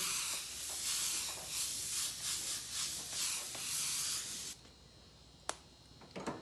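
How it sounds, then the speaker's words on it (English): An aerosol can sprays in a long pulsing hiss, then stops, followed by a few faint clicks and taps. "I'm just spraying a black right now to kind of help make sure all my colors are good."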